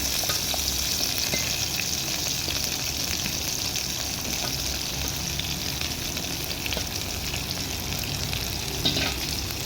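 Onions sizzle hard in hot oil in a kadai, a dense, even crackle with soft stirring scrapes throughout and no talking.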